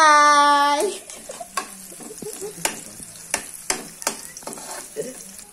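Aromatics sizzle in a frying pan while being sautéed with a spatula, a steady crackling fry under repeated sharp scraping strokes at an irregular pace, preceded by a brief tonal beep at the start.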